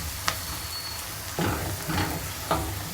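Spices being stirred into a hot egg curry pan where garlic is already browning: a continuous close sizzle with several scraping stirs of the spoon, loud and steady, no voices.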